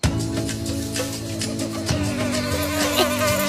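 A cartoon mosquito buzzes steadily, a thin whining drone with wavering pitch that stays loud and close for several seconds, heard alone.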